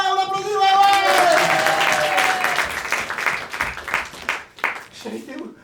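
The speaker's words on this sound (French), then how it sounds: "Ouais, on applaudit, ouais!" Audience applause at an improv theatre show, dense clapping building loud from the start and thinning into scattered claps toward the end, with a voice and some cheering mixed in at the opening.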